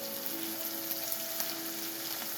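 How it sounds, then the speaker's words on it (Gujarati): Onions cooking under a lid in a pan for kanda poha give a steady, even sizzle throughout, close up with no voices. "હવે કાંદાને આપણે ઢાંકીને ચડવા દઈશું"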